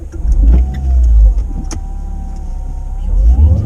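Inside a Renault Clio 200, a loud low engine hum rises and falls, while a thin, steady whine from the alternator wiring, sounding almost like a supercharger, runs through it close by.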